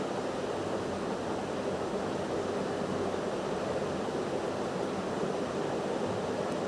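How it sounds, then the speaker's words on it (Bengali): Potato, pointed gourd and mung dal fry together in a pan with a steady, dense sizzle that holds evenly throughout, with no talking. "আবারও আমি পটল, আলু আর মুগ ডাল একসাথে একটু কষিয়ে নেব।"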